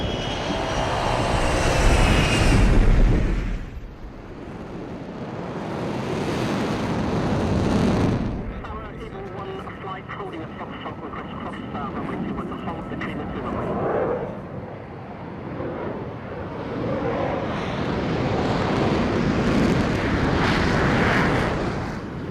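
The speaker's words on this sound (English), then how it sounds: "you're cleared for takeoff" A fighter jet takes off at Nellis during Red Flag, its engine swelling into a loud roar with two big surges early on, then a sustained rumbling thrust, with radio talk partly underneath.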